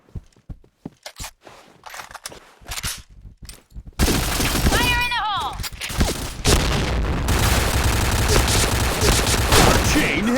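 Gunfire in a shooting video game: a run of sharp, scattered shots gives way to a loud, dense barrage layered with game effects and a brief rising electronic sweep, all near and continuous.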